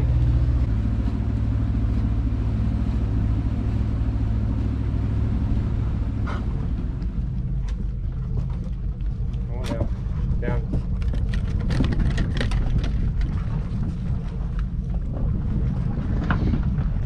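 A boat motors slowly in toward a dock at Labelle Marina, its steady low engine drone running throughout under wind buffeting on the microphone, with scattered knocks and clatter toward the end.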